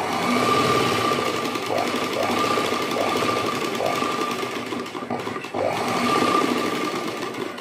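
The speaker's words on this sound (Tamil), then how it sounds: "மிஷினை நிப்பாட்டி நிப்பாட்டி தைச்சா போதும்" During a tailoring class, a sewing machine stitches along a fabric edge with a close, steady mechanical whirring. The run breaks briefly about two thirds of the way through, and a voice talks over it.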